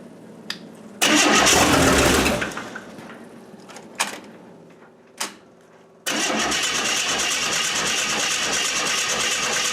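A 1927 Hudson car's engine cranks and catches with a loud burst, falls back, gives a few short coughs, then settles into a steady, close running roar.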